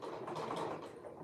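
A sewing machine stitching fabric at a 3/8 seam allowance, giving a soft, steady mechanical whir that hums quietly and evenly for a brief moment.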